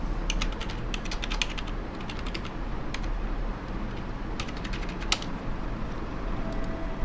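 Someone types on a computer keyboard, producing irregular runs of clicky keystrokes in quick bursts with short pauses, close and clear over a low hum.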